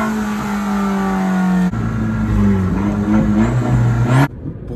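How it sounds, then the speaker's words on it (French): An Abarth with the Record Monza exhaust revs loudly up close, its engine note climbing steadily, dipping briefly, then rising again before cutting off abruptly. "L'Abarth, elle a une sonorité incroyable."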